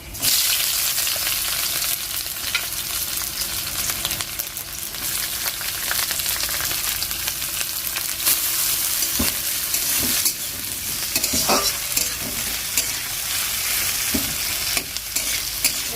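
Onions frying and sizzling in hot oil with chilli and garlic for an egg curry, a steady dense crackle throughout with occasional stirring scrapes and clinks, close and fairly loud, no talking.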